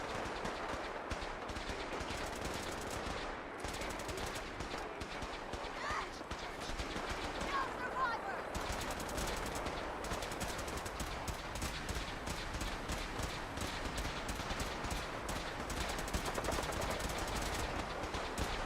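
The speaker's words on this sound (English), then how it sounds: "Someone's shooting at me." Rapid, continuous gunfire in the Fallout 4 video game, dense bursts of repeated shots running throughout with little pause, mixed with other game sounds and a voice talking over it.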